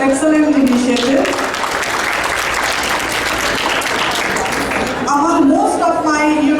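Audience applause at a business expo and job fair, a dense steady wash of clapping filling the room for several seconds, with a voice speaking over it at the start and end.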